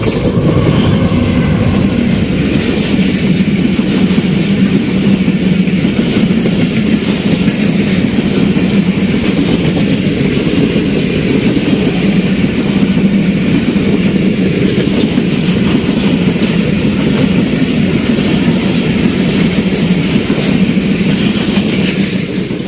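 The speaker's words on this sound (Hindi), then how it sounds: "तो आइए वन अप का हम एक्शन देखते हैं यहाँ से, पासिंग थ्रू एक्शन" The 1Up train passes through Reti railway station with a loud, close, continuous rumble and wheel clatter that stays steady from start to finish.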